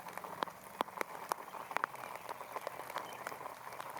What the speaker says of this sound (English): You can hear that rain coming down a little more right now.